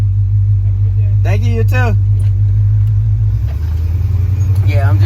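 A Chevrolet Monte Carlo on new QA1 suspension drives along with a deep, steady engine drone and road rumble inside the cabin, while people exchange a few brief words over it.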